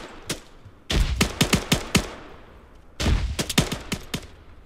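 Bursts of gunfire in the Arma III combat game, sharp shots in two rapid clusters separated by a quieter gap, loud and close with no talk over them.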